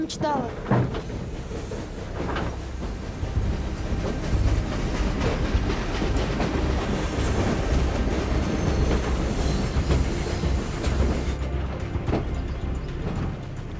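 A train rolls along the rails with rhythmic clacking, rumbling and occasional squeals, steady and fairly close, with a voice speaking in Spanish over it.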